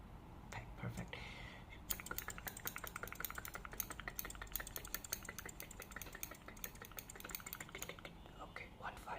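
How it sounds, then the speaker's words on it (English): Scissors point cut into hair in an ASMR barbershop roleplay, giving a dense run of rapid, crisp close-up snips that continue steadily, with soft whispering heard early on. "point cut, point cut, cut"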